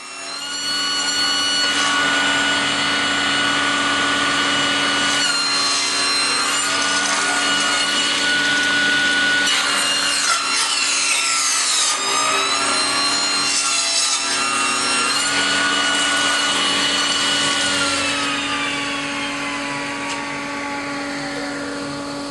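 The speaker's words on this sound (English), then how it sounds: "And now I make my first test cut." A saw rips maple strips on a strip-cutting sled for kumiko work, a loud, steady whine and rasp of blade through wood that runs continuously, swelling and shifting in pitch as the board is pushed through, then easing off near the end.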